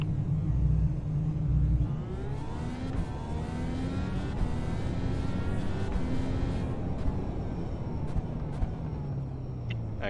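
Racing car engine in a league race in a racing video game, a steady loud drone with shifting tones as it revs up and down through gears, continuous for the whole stretch with no talk.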